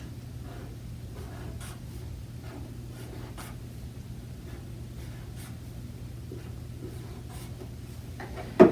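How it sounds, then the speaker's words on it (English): Pen drawing boxes and lines on paper, a series of soft, close scratchy strokes in short bursts over a faint steady hum, ending with a brief louder tap, no talking. "at the end of those lines, you're going to draw 4 more boxes or circles"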